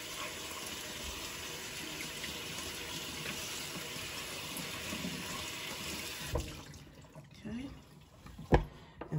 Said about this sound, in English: And then you rinse the seeds off.